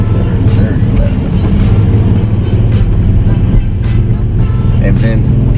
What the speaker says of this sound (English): when you press the gas harder, you'll hear that kind of like a V8 sound coming out of it